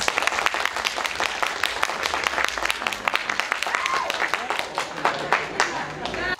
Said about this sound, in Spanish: Ahora aplausos y solamente aplausos para la señorita Amparo Banks.